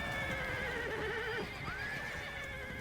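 Horses whinny and neigh loudly in the medieval battle game Conquest 1066, a long wavering call followed by a rising squeal, with faint hoof clatter beneath and no talking.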